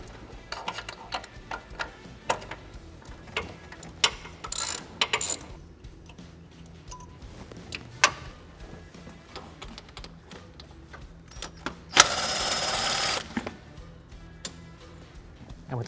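A ratchet works loose the 10 mm nuts and bolts holding the throttle body on a Chevy Impala, giving bursts of quick clicking separated by pauses, with a louder, denser stretch of clicking near the end.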